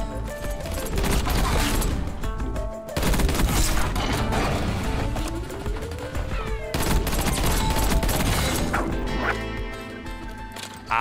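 An AEK assault rifle firing at a high rate in Call of Duty Black Ops 6, long dense bursts of rapid automatic fire separated by short pauses, loud and up front with battlefield effects mixed in.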